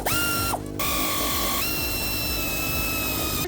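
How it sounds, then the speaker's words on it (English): A tool works bolts loose from a Jeep TJ fender, a mechanical whirring with rising tonal whines and a rapid ticking, close and continuous apart from a short pause, no voices. "Next step is to remove those 3 bolts."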